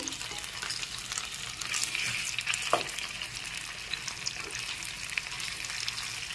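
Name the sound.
butter garlic chicken frying on low flame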